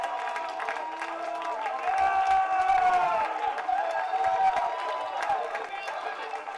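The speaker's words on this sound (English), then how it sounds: "And warm applause from both sides of the grandstand." Applause and cheering from both sides of the grandstand at the 2023 Highland League Cup final between Inverurie Locos and Banks o' Dee as medals are handed out, a crowd clapping and shouting at a distance that swells midway.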